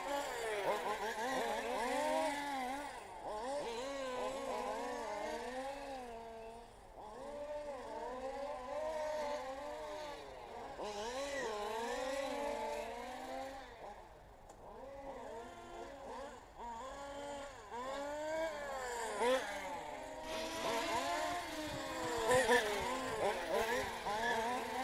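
Race cars lap a track during a qualifying session in Luxembourg, engines whining and rising and falling in pitch as they pass in waves, steady and moderately distant throughout.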